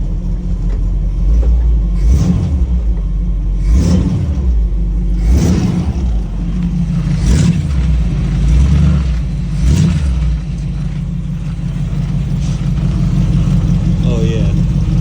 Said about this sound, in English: See what kind of noises this thing make when I put it in gear.